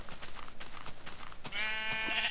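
A Minecraft sheep being killed lets out a short wavering bleat near the end, preceded by a run of quick clicking hits, all fairly quiet and close.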